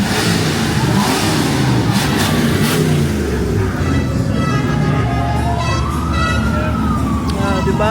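A car engine revs loudly amid steady road noise and voices, with a siren-like rising tone sweeping in partway through.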